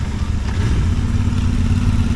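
A motorcycle engine drones steadily at speed on a rainy-day highway ride, a low continuous rumble with wind rush layered on top, recorded up close while riding.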